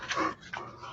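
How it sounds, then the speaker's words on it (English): A senior dog gives two short, soft whimpers close by, a high whine followed by a quieter second cry, with no talk. "My senior dog finally woke up."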